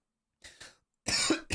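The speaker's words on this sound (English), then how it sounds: "Oh, I'm going to cough." Two short coughs, then a louder, longer harsh cough, close to the microphone, with no talking.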